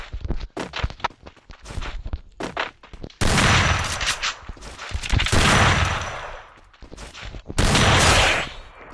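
Shotgun fire in a video game: a run of sharp blasts, then three long, loud bursts of booming gunfire, each cut off abruptly, with no voices.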